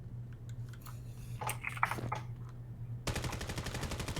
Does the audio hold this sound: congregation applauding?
no